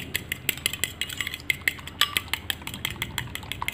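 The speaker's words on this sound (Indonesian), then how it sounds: "Kemudian kuning telurnya ini kita kocok" Egg yolks with salt and liquid vanilla whisked in a bowl for sponge cake batter make rapid, rhythmic metallic clicks and taps against the bowl, close and continuous with no talking.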